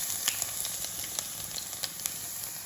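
Chopped garlic, ginger and green chilli sautéing in hot oil with fenugreek for a spicy fish curry, giving a steady close sizzle with a few soft scrapes of a spoon, no talk.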